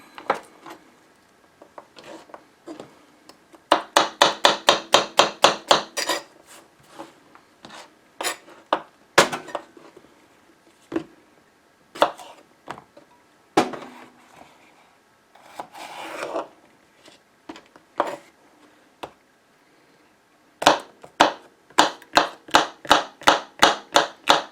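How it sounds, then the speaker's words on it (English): A knife chopping thin rings from mild, non-hot sweet peppers on a cutting board: rapid bursts of crisp, even cuts, then scattered single chops and short pauses, close and alone with no talk. "Cut these pretty thin because they will cook better that way"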